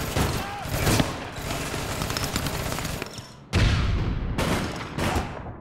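Gunfire in the online shooter APB Reloaded, rapid bursts of shots and booming impacts in dense volleys with brief gaps between them.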